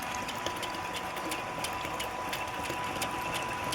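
A deep well water pump runs while failing to bring up water, giving a steady, continuous mechanical hum and rattle at moderate volume with no talking.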